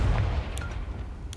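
The Confringo blasting spell from Hogwarts Legacy goes off as a single deep, muffled boom at the start. It fades into a low rumbling tail, brief and fairly quiet.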